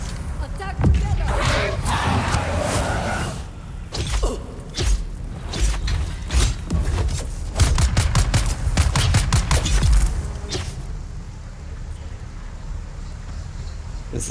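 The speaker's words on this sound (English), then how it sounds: "It's the sniper rifle." Gunfire in the video game Dune Awakening, including sniper rifle shots, sounds as dense rapid bursts and cracks over a loud, churning battle backdrop. A voice speaks over the action, which thins out toward the end.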